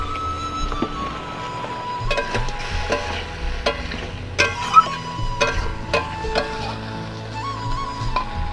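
Fish sizzles quietly in oil in a pan while a utensil stirs it, with a soft continuous fry and scattered scraping clicks. The setting is a Bengali home kitchen, cooking boal or lote fish curry.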